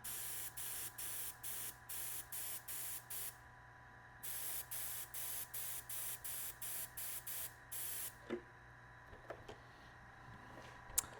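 Short, regular bursts of spray paint hiss as light coats go onto an F-16 model, each puff lasting about half a second with brief gaps, close and steady, then fading into quiet room tone with a few small knocks near the end.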